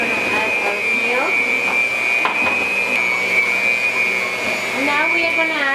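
An electric mixer whirs at a steady, high-pitched whine while beating cake batter with flour and milk for a three milk cake, running continuously with a voice talking over it.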